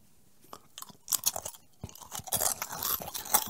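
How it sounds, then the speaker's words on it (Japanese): Crunchy Baby Star snack noodles being chewed close up, a run of crisp irregular crunches and bites that grow denser and louder over a few seconds, with no talk. "スナック菓子とかはすごいカリカリカリって言ってわかるんだけど"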